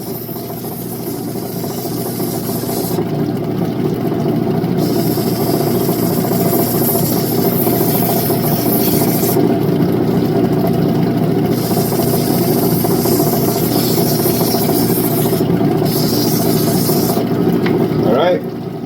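Lapidary grinding wheels refine turquoise rough for jewelry, giving a steady loud motor hum and wet grinding hiss that runs without a break, with faint higher scraping bursts coming and going.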